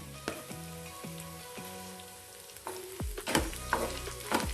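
Dried chillies, curry leaves and tomato sizzle and fry in a pan for a chutney, a steady close crackle broken by scraping stirs, growing busier and louder as the tomato goes in.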